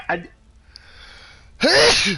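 A single sharp sneeze bursts out near the end after a quiet stretch, preceded by a brief voiced gasp or breath.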